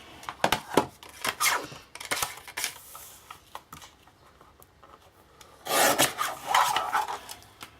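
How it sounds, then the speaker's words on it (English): Card is trimmed on a paper trimmer for a handmade Christmas window card, giving short rasping, rubbing strokes in bursts that are close and moderately loud, with quiet pauses in between. "I'm going to trim it down just a little slither off it."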